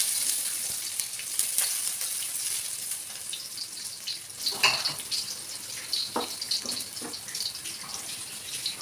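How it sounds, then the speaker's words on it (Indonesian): Shallots and garlic sauté in a pan at home with a soft, steady sizzle. Occasional utensil clinks and stirring scrapes sit over it, fairly quiet and close, with no talk. "Ini pakai bawang merah, bawang putih doang, terus tinggal tumis-tumis aja kayak gini."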